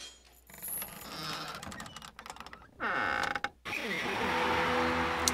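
A stockpile crate is opened with a key in Team Fortress 2, making clicking, ratcheting mechanical noises followed by a creaking unlock and a sustained whirring reveal sound, all close and fairly loud.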